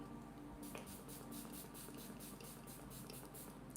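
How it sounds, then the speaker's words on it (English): Makeup setting spray misted in quick repeated pumps, a rhythmic series of soft hissing bursts, close but very quiet against a low background hum. "setting spray."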